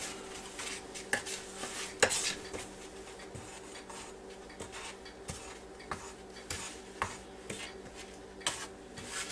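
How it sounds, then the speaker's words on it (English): A bowl of flour coating for country fried steak is stirred with steady scraping and rubbing strokes, close and moderately loud, with a few sharper knocks against the bowl and no talking. "now I'm going to stir this up pretty good here"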